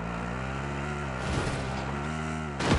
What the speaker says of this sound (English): we're hopping in this car and we're driving to park